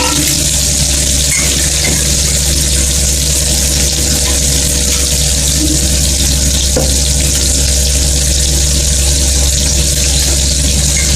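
Onions, tomato and green chilli sautéing in a pan after mustard seeds have popped, a loud, steady, close sizzle and hiss that continues throughout without a break.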